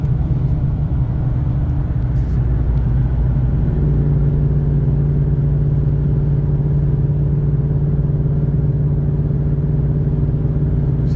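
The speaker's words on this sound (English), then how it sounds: "very livable exhaust note" A 2024 Ford Mustang GT with an aftermarket exhaust cruises in fifth gear, its V8 holding a steady low drone that settles into a smoother, even hum partway through, loud and close with no talking.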